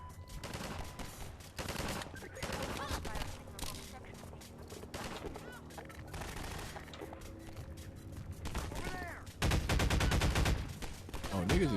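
Steady gunfire from DOOM Eternal or Half-Life 2 gameplay, repeated shots rattling under someone talking over the game, with a louder dense burst near the end.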